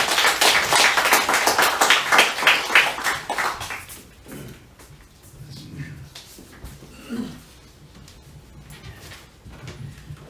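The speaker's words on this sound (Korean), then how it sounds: "큰 박수로 환영하는 응원의 박수 또 하나님께 영광 올려드리는 박수로 맞이하겠습니다" Members of a church congregation clap loudly together to welcome a missionary, a burst of brisk applause lasting about four seconds before dying away into quiet room sounds and faint shuffling.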